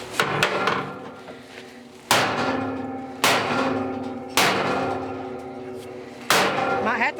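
A hammer strikes metal on a junk hauler trailer under repair: five loud, ringing blows spaced about a second apart, each decaying slowly, with faint talk in the gaps.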